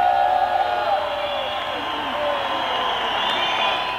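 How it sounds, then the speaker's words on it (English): Crowd noise at the Wagah border closing ceremony, a sustained dense wash of many voices shouting and cheering, steady and loud throughout with a few higher calls rising above it. "it involves lots of stomping, marching and noise by the crowd"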